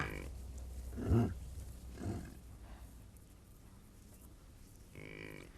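Bison in a livestock enclosure give low, rumbling grunts, two deep bellows close together followed by a softer call, near and moderately loud against a quiet outdoor background.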